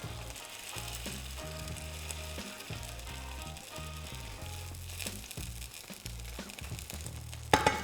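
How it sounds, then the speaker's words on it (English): Salmon sizzles in a hot pan, a steady close frying hiss with small crackles throughout and a louder burst of spitting at the very end. "Let's get this salmon on."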